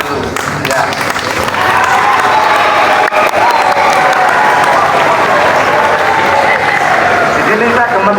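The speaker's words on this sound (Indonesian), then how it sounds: "Dia tepuk tangan dulu, ya." Audience applause fills a national Education Day school ceremony, a dense, steady roar of many hands clapping continuously from start to finish, with crowd murmur blended in.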